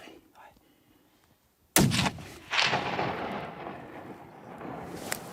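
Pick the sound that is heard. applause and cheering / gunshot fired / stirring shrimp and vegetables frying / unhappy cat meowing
gunshot fired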